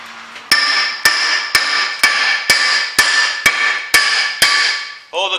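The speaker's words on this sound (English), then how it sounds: "Now, we just need a hammer." Ten loud, evenly spaced hammer blows ring out on metal on the rear of a Renault Master van, each strike followed by a bright ringing decay, ending with a short vocal sound.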